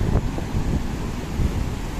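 Large ocean waves, four to five feet high, break on the shore at Baganga, Davao Oriental under dark clouds, a steady low roar of surf mixed with heavy wind buffeting on the microphone.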